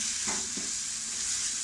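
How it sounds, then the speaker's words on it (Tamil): Carrots and beans tossed in masala sizzle steadily in a pan, with a couple of soft scrapes from stirring over a constant frying hiss. "இதை நல்லா வதக்கலாம். இதை நான் கொஞ்சம் நேரம் ஒரு 2 மினிட்ஸ் நல்லா வதங்கட்டும்."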